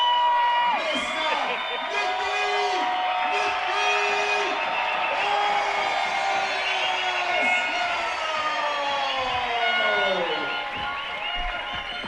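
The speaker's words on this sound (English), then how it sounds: "This crowd is electric." A boxing arena crowd roars after a first-round technical knockout, loud sustained cheering and whoops filling the hall throughout, with whistles and shouts rising over a dense wall of crowd noise.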